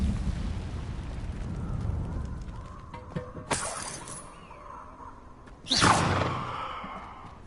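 A fire spell cast in the Hogwarts Legacy video game: a sharp whooshing burst near the middle, then a louder flaring blast with a crackling tail toward the end, over a low ambient rumble.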